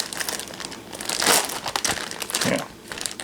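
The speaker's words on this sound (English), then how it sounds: "when I seal them, I like to squeeze the air out of the bag" Plastic bag crinkling and crackling as it is squeezed to push the air out before sealing, with close, continuous rustling in uneven bursts and no talking.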